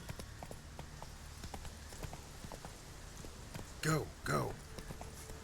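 Hooves of Roach, Geralt's horse in The Witcher 3, clip-clop in a steady walking rhythm on open ground, moderately close, with a man's short spoken words breaking in near the end.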